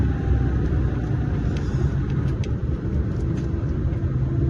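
Steady low road rumble of cars passing close by around a slow tractor convoy in Messinac, Charente-Maritime, continuous and fairly loud throughout with no talk.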